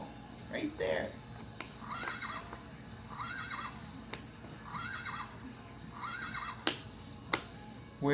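Recorded horse neighs from a toy animal puzzle, several repeated whinnies spaced about a second apart, fairly faint and tinny, with small clicks of puzzle pieces and a sharp snap near the end.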